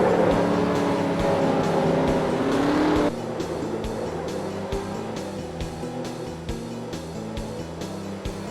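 Stock car racing video game with race cars roaring around the track, a dense engine drone that drops in pitch partway through and is then punctuated by regular clicking ticks.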